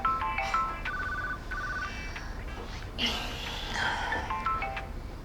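An electronic ringtone chirps in short repeating melodic bursts, with a muffled rustle in the middle, and a few quiet voices.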